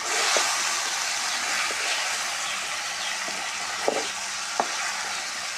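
Cauliflower curry sizzles in a pan while chilli powder, turmeric and salt are stirred in, a steady frying hiss broken by a few soft scrapes of the spoon.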